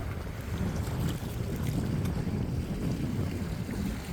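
A large, empty trawler on a river at dark gives a continuous low rumbling drone, steady and fairly loud, mixed with wind buffeting the microphone and the wash of water, with no one speaking.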